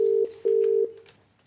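A telephone call is placed in a British TV production: a few short dialling tones, then a steady ringback tone that cuts out in two long bursts before fading into quiet. Clear and close, with no speech.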